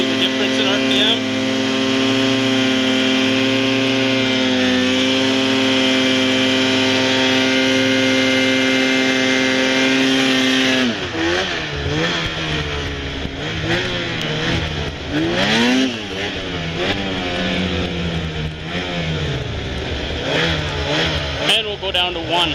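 An engine with a clutch and belt drive holds a steady loud drone at one RPM for about ten seconds, then revs up and down in rising and falling sweeps, close by, with occasional talk over it.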